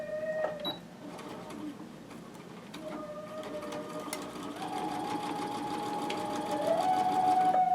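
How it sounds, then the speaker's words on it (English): A sewing machine stitches quilt pieces point to point in a steady rapid mechanical whir that runs throughout and grows slightly louder, with a few faint clicks and tonal beeps at the start and a quiet background. "And now, when I'm stitching from point to point."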